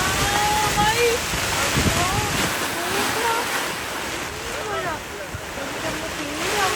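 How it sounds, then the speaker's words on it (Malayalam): Wind roars steadily during a thunderstorm with a constant rushing wash of heavy rain, and a person speaks intermittently beneath the storm noise. "ചില്ലറ മഴയൊന്നും അല്ലാട്ടോ"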